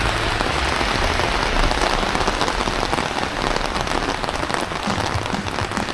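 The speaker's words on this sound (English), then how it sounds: "No sooner did I say the rain had slowed to a trickle and it started back up again." Steady rain pours down in St George's, Grenada, a loud, dense patter of drops hitting surfaces nearby that runs unbroken for the whole stretch, with no talking.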